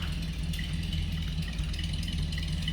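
A 1934 Chevrolet Master five-window coupe's engine idles steadily, heard from behind the car near the exhaust, a low even rumble with a faint whir and no talking.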